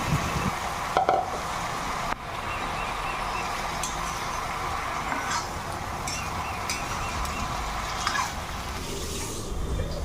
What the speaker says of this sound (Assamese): আৰু অলপ সময় ভাজিম।